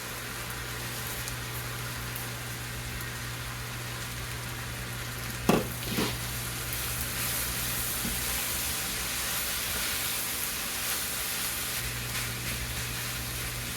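Rice frying in a pan over high heat gives a steady, even sizzle throughout, with a brief clatter of stirring midway and a low hum in the background.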